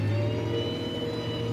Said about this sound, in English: the whine of the hydraulics